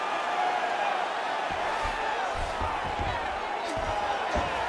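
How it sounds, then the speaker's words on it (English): An arena crowd roars and cheers in the UFC 5 video game during a Volkanovski versus Khabib fight, a steady wash of crowd noise with dull thuds, while a commentator talks over it. "crowd just loving it as the fighters, after an extended grappling battle, make their way back to the feet"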